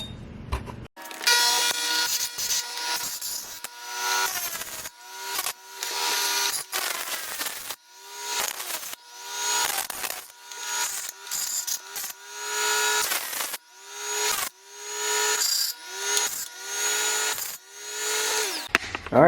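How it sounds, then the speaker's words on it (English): A power sander grinds down the edges of a custom dual intake for a C4 Corvette, whining loudly in repeated bursts that rise and fall as the tool bites and eases off, close up with no talking. "So a good thing I got this sander. I'm gonna sand it down, I'm gonna grind it down right quick"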